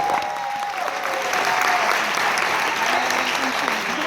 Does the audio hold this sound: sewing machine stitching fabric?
no